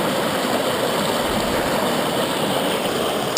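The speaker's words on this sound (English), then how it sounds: "I've let the sluice run for quite a bit there" Water runs steadily through a gold panning sluice in a UK stream, a continuous broadband rushing and gurgling that stays even and fairly loud throughout, with one brief knock near the end.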